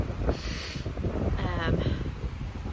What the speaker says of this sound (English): And it's just super windy.